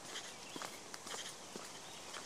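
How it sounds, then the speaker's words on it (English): Footsteps walking on a wet, crunchy park trail, picked up by a NearStream AWM20D wireless lavalier mic with noise cancelling off, with several soft, irregular crunching steps over a steady background hiss. "I'll stop talking for a second so you can hear the footsteps."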